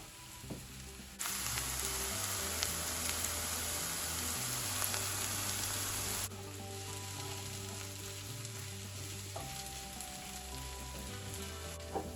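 Garlic, tofu and apple fry in a pan with a soft, constant sizzle that grows louder partway through and then settles lower, under faint background music and without speech.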